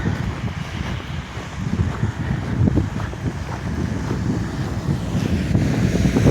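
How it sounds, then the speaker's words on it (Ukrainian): Steady, frosty winter wind gusts and rumbles against the microphone in a continuous, noisy roar, with no voices. "Вітер"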